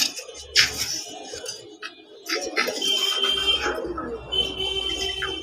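A male tiger-coloured fancy pigeon coos nearby on a pigeon farm, giving soft low throaty calls among light clatter and other bird sounds in the loft.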